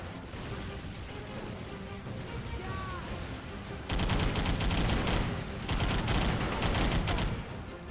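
Video game gunfire as the player switches to a secondary weapon: a loud, continuous burst of rapid automatic shots that grows heavier partway through, with no talking.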